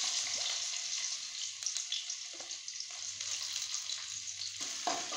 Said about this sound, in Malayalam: ഇഞ്ചിയും വെളുത്തുള്ളിയൊക്കെ ഒന്ന് നന്നായിട്ട് മൂപ്പിച്ചെടുക്കാം